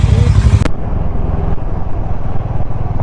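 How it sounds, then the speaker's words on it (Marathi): Harley-Davidson X440 motorcycle riding on the road, a steady engine and road rumble running throughout, with a brief louder burst at the start. "आज अपन चला रहे हैं हार्ले डेविडसन"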